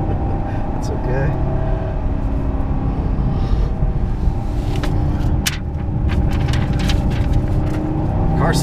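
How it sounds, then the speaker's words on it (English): A 2015 Chevrolet SS sedan with a 415-horsepower engine drives hard on a race track, its loud, constant engine roar and rumble filling the cabin while a voice talks over it. "Car sounds great. It sounds really good."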